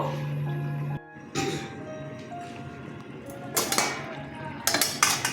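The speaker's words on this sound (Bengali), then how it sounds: "মিনিট পাঁচেক পরে ঢাকনাটা খুললাম" A metal lid comes off a cooking pot of vegetarian rice dish with coconut, chickpeas and milk, giving a few clanks and clinks of metal cookware over a quiet kitchen background.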